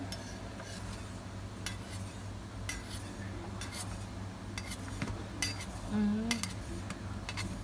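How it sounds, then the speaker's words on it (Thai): A knife taps and scrapes repeatedly against a cutting board in an uneven rhythm, thinly slicing grilled liver, close up, with faint kitchen clinks around it. "เดี๋ยวผมจะหั่นใส่จาน"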